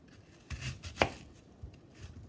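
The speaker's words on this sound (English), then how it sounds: "So I'm just trying to show you how I'm cutting this onion." A kitchen knife chops through a wet onion for homemade salsa on a cutting board, giving a few close, soft thuds and one sharp, crisp cut in quick succession, with no talking.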